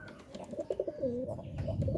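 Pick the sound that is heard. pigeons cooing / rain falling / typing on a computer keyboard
pigeons cooing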